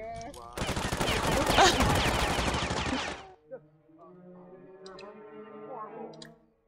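Rapid automatic gunfire in the Sims 4 video game as a dog is shot: a dense, loud, continuous burst lasting about three seconds, then a sudden stop leaving a single click and quieter tonal game sounds.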